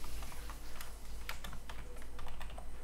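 Typing on a computer keyboard, a quick irregular run of close, crisp key clicks and taps that continues steadily with no one speaking.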